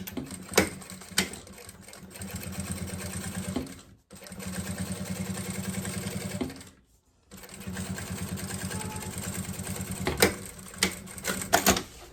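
A sewing machine with a size 18 needle stitches a maternity bag in fast, loud mechanical bursts. The whirring run stops briefly twice, then restarts, with a few sharper knocks near the end.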